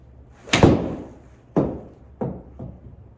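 Golf wedge shots hit into a Trackman simulator screen, four sharp separate thuds with short decaying tails, the first loudest and the later ones fainter.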